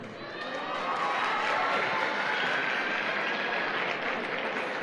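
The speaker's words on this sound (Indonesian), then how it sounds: "Oke, tepuk tangan Pak." Audience in a seminar room claps steadily, a dense even wash of applause that swells a little and holds throughout, with faint crowd murmur mixed in.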